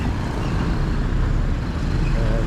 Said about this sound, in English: listen to these trucks